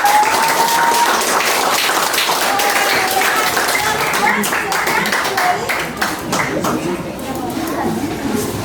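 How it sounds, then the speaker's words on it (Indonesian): A room of teachers in an academic supervision coaching session applauds a presenting group with sustained, dense clapping, with voices mixed in. "kita beri aplaus dulu untuk kelompok 2"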